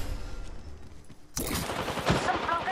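Gunfire in the video game Apex Legends during a squad fight, starting abruptly partway through as a loud burst of rapid shots mixed with voices and game effects.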